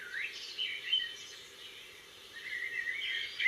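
New Zealand garden birds chirp and warble softly in the distance in the morning, high bright calls rising and fading against a quiet, calm background.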